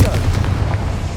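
Confringo fire spell blast in Hogwarts Legacy, a loud low booming burst with rumbling tail, dense and continuous through the short moment.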